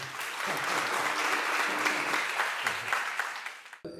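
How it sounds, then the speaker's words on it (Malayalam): An audience at a bishop's gathering with young people claps for about four seconds in a dense, steady burst of applause that cuts off abruptly at the end. "നമുക്ക് നല്ല കൈയടി കൊടുക്കാം"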